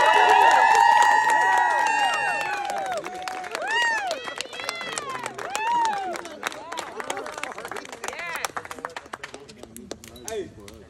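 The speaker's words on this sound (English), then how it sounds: "can I just get a round of a fucking applause?" Guests at a retirement party break into loud, sustained cheering with high whoops and shouts over clapping, strongest at the start and thinning out toward the end, with voices mixed throughout.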